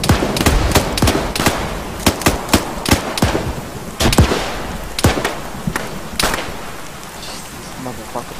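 Gunfire in the video game Arma 3, a run of sharp, loud single shots fired at uneven intervals, some in quick pairs, ringing close over faint background noise.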